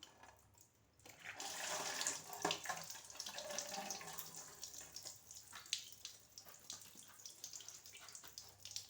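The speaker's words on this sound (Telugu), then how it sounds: "చూడండి దసన్నాకులు, చూడండి కడిగేస్తున్నా." Running water splashes steadily close by as curry leaves and flowers are washed under it, starting after a short quiet moment and carrying on without speech.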